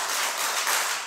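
A church congregation clapping hands together at a Wednesday worship service, a dense, bright burst of many hands that runs steadily for about a second.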